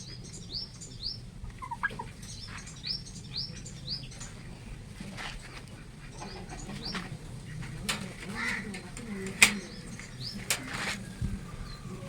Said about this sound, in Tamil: உள்ள வான்கோழி, கின்னி கோழி,